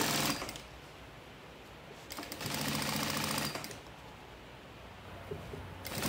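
Domestic sewing machine stitching a seam on a baby diaper and wipes holder, running in two loud bursts with a quieter motor hum between them, close and without talk.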